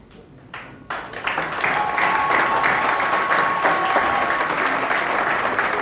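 A gathering of Congolese people breaks into applause, starting with a few scattered claps before swelling within a second into sustained, dense clapping from the crowd.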